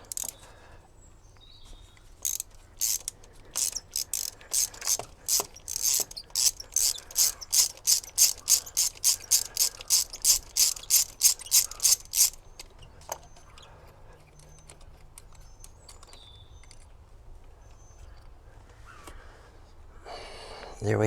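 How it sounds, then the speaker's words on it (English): Ratchet turning a 10mm long reach socket on glow plugs of a BMW E60 with M47 diesel engine, a close series of rapid clicking pawl bursts in regular strokes, then quieter handling sounds. "So you'd go at this with a 10mm long reach socket."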